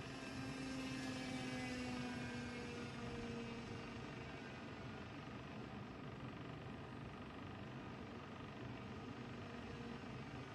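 A simulated P-51D Mustang propeller engine in RealFlight 9.5 drones steadily at full power, with a sustained tone that gradually lowers slightly in pitch; no talking.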